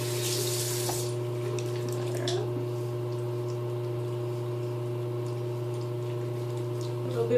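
Warm water runs steadily from a bathroom tap into a sink during face washing, a constant close hiss with a brief splash at the start and no talking.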